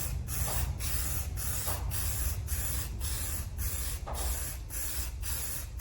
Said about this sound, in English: I do want overspray on the shirt